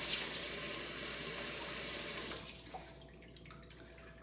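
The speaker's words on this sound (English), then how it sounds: "Let me wash my hands real fast." Tap water running steadily into a sink while hands are washed, then the flow cuts off and a few drips and faint clatters follow, no talking.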